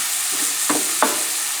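Garlic and shallots sizzle in a pan over a high flame, a soft steady frying hiss broken by a few brief scraping stirs, close and quiet.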